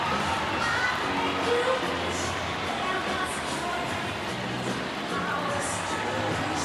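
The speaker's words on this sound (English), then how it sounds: "Have this crowd erupt." Arena crowd at a Nebraska Huskers volleyball match roaring with sustained cheering and shouting, loud and dense throughout with little variation.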